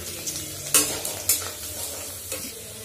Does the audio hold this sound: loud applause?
no